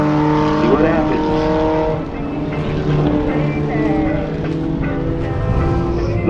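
Manual-transmission drag race cars launch from the starting line at a stick shift bracket race, loud engine roar with rising revs and gear changes, under an excited announcer's commentary.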